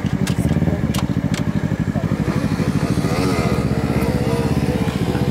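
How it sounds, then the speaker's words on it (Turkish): A motorcycle engine in first gear runs steadily up close, its loud, rapid pulsing firing rhythm continuous throughout, with a few brief clicks near the start. "Şu an motor birinci viteste."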